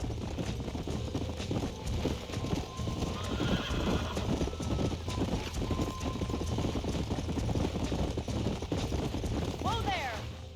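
Horses gallop in Red Dead Redemption, a dense, rapid clip-clop of hooves running continuously under voices, with a sharp whinny near the end.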